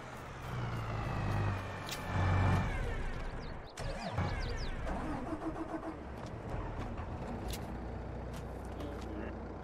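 A tractor with a front loader in Farming Simulator 22 idles with a low, steady engine rumble across the whole stretch, louder near the start. The beginning has a rough starting surge with some mechanical clatter.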